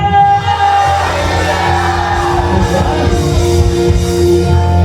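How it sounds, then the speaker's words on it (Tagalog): A church congregation shouts Hallelujah together in a blessing shout, a loud, sustained wall of massed voices and whoops over a steady tonal hum, close and continuous for the whole span. "Tayo blessing shout! Sumigaw ng Hallelujah!"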